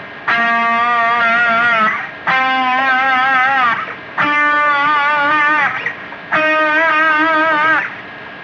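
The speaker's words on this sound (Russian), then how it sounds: "Есть еще интересный прием, называется слайдовая вибрато." Guitar played with a slide, using slide vibrato: four sustained distorted notes with wavering pitch, each held about two seconds with short gaps between them.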